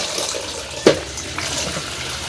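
Hot water runs steadily out of cut cauliflower through a kitchen sieve into a bowl, a close continuous pour with one brief splash or clunk partway through.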